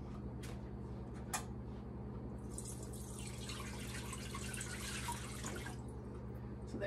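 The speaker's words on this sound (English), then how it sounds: "I'm gonna grab a pitcher and put some water in it" Tap water runs steadily into a pitcher in a home kitchen, a constant close hiss with a few drips at the start, rising into a brighter rushing fill partway through before easing off near the end.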